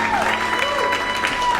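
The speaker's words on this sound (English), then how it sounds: "such a long clap" A studio audience gives sustained applause after a live band performance. The clapping is steady and close, with a few scattered voices underneath.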